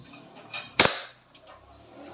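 A Double Bell Pit Viper blaster fires a single sharp, loud shot, a brief crack with faint mechanical clicks before and after it.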